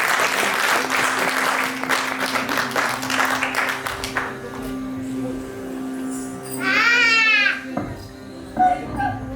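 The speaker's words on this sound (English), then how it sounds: "Let's have a round of applause for Guru Vanashri Rao." An audience at a cultural program applauds Guru Vanashri Rao as she comes on stage. The clapping is loud for about four seconds, then dies away into room murmur and a child's rising wail.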